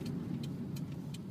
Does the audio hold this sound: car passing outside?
yes